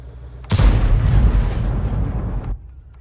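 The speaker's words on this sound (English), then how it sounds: "He's firing random shots now." Artillery gun in a tank video game, a 105 leFH18B2 howitzer, fires a single heavy boom that rolls on for about two seconds, loud and close, with no talking over it.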